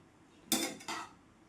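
Soya pulao rice served onto a plate with a spoon, two quick clinking scrapes of the spoon against the plate, close and clear, with no talking.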